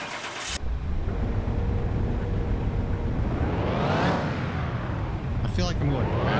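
A car on the dyno in Car Mechanic Simulator 2021 starts and revs up steadily through rising and falling engine pitch, loud and close, with a brief burst near the end.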